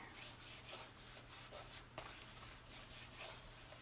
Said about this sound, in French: je vais découper avec vous la prochaine fenêtre pour vous donner une idée